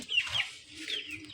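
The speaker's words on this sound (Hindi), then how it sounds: "ये एक मुर्गी है" A hen clucks nearby in two short, soft rising calls among a small group of chicks.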